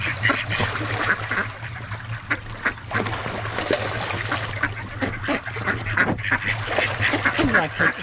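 Ducks being fed on the Norfolk Broads quack repeatedly and close by, a busy run of calls over a steady low engine-like hum.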